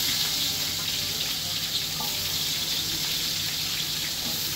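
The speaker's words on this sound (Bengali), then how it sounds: "আর এইদিকে পেঁয়াজ বেরেস্তার জন্য পেঁয়াজ ভাজতেছি।" Onions sizzle steadily in hot oil with whole spices such as bay leaf, cardamom, cinnamon, cloves and cumin, a continuous close frying hiss that stays even throughout with no talking.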